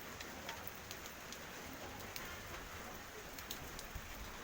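Rain falls steadily outdoors, a soft continuous patter on surfaces with faint scattered drips, fairly distant and quiet, and no voices.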